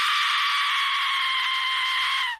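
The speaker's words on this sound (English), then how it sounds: "It's called an Aztec death whistle" An Aztec death whistle lets out one sustained, piercing scream like a human shrieking at full voice, loud and steady for over two seconds before cutting off.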